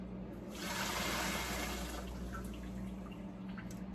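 Chicken and vegetable broth being poured and strained, a quiet burst of splashing liquid that rises quickly, holds for about a second and a half, then tapers into faint trickles and drips.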